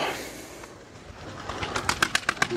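Pet pigeons or doves cooing in a series of soft, close calls that grow more distinct toward the end, with low background noise and no talking.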